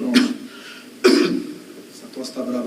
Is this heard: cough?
yes